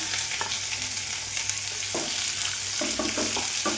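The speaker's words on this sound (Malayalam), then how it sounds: "ബട്ടറൊന്ന് മെൽറ്റാക്കാം. ക്യാപ്സിക്കം ഇതിനകത്തേക്ക് ഇട്ട് കൊടുക്കാനും." Capsicum fries in melted butter in a pan for a curry, a soft continuous sizzle broken by a few brief stirring scrapes, heard up close with no talk.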